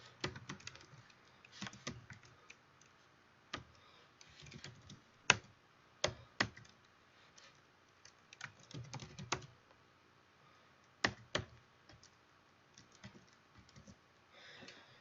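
Code being typed on a computer keyboard: faint, irregular bursts of key clicks with short pauses between runs, close and quiet.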